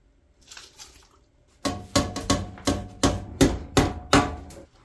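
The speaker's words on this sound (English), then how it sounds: "now you add the candy canes" Candy canes are dropped into a pot of peppermint moonshine mixture, giving about nine loud, sharp knocking clatters in a quick, fairly regular series after a quiet start.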